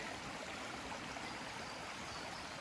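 A small trailside stream on the Appalachian Trail flows in a steady, even rush of water, close and continuous throughout with no voices.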